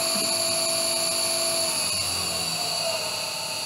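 An electric motor run from an ENC inverter, slowing from 50 Hz to about 35 Hz, gives a steady high-pitched whine with several stable tones and a faint hum throughout. The tone eases downward near the end.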